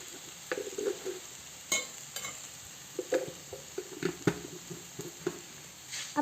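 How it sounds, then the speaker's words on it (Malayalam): Onions sautéing with chili powder in a pan for beef curry: a soft sizzle under repeated scraping stir strokes and light clinks of a spoon, close by, with no talking. "സവോള നല്ലതായിട്ട് വഴന്ന് വന്നിട്ടുണ്ട്"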